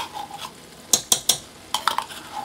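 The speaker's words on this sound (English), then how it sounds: "We'll stir that and see if we need a second one." A spoon stirs tomato pasta sauce in a pot with several distinct scraping knocks against the metal, two quick bursts of three strokes each over a soft background, and no one speaks.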